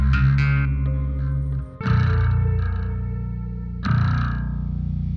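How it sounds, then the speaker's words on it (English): A sloppy bass guitar intro in a submitted mix, heavily processed with distortion and chorus, sounds as loud, thick phrases broken by brief gaps. The bass hits several slurred notes. "this bass in the intro is super sloppy"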